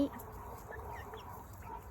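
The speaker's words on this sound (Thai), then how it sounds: "เป็นครั้งแรกค่ะที่เลี้ยงไก่ เลี้ยงไก่ไข่ลองเลี้ยงดูอันนี้" Young laying hens in a backyard coop cluck faintly and intermittently against quiet outdoor ambience.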